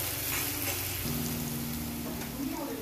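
Onions and spices fry in a pan with a steady, loud sizzle and crackle throughout, while a low hum runs underneath.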